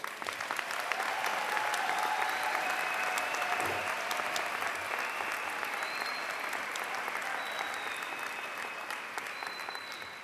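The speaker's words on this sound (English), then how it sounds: "Let's give our graduates one more round of applause," Audience applause for graduates at a university commencement ceremony, a steady, dense wash of clapping from a large crowd that holds evenly for about ten seconds with faint voices underneath.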